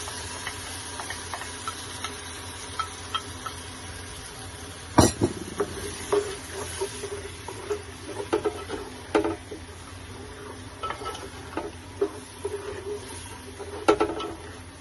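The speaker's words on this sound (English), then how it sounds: "I'm going to put in our chopped onion, 2 large chopped onions" Two large chopped onions hit a hot pot for Jollof rice, a soft steady sizzle with a sudden burst as they go in, followed by scattered ticks and light stirring clinks.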